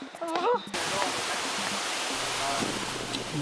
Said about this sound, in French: Voici les chutes. Je crois que ça s'appelle les chutes de El Limon.